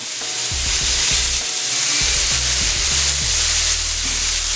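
Soy sauce sizzling on a hot Steelmade hibachi flat-top grill alongside searing steaks, a loud, steady hiss of frying with low scraping and shifting sounds underneath, close up and without voices.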